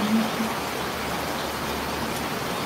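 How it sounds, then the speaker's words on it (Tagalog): Heavy rain falls in a steady, dense broadband hiss that stays even and loud throughout, with no voices heard. "Grabe, lakas ng ulan."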